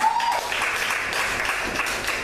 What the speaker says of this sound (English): I want you all to give her a round of applause.